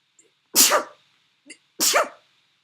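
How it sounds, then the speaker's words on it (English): A single person sneezes twice in quick succession, sharp and close, with a faint short sound between them. "I had a sneeze."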